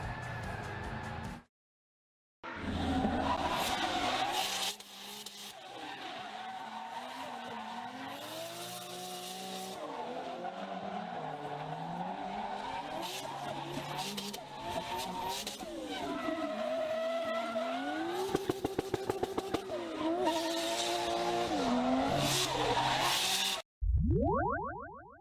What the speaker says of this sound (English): There are also drift trials where players compete using their drifting techniques